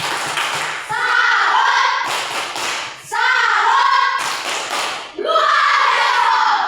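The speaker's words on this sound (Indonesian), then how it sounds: "Tepuk salut." A class of young students does a rhythmic salute clap for a classmate group: sharp bursts of clapping alternate with loud unison chanting from the children, repeating in a steady pattern.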